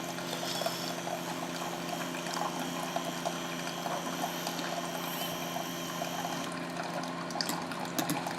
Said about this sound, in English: While the coffee finishes brewing